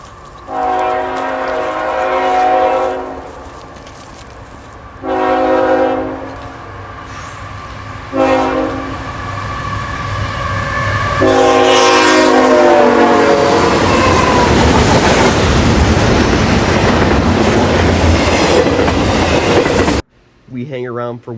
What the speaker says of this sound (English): We catch back up to this train and shoot it at track speed east of Griffith,